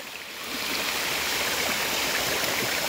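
Floodwater after an unexpected heavy rain rushes steadily in a broad, constant wash of flowing water, swelling slightly in the first half second and then holding even and close, with no voices.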